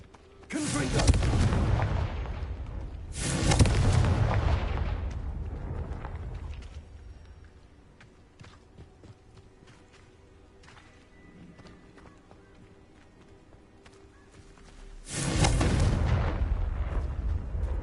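Confringo fire spells explode in Hogwarts Legacy, three big booming blasts with long rumbling tails, the first two close together and a third after a quiet stretch.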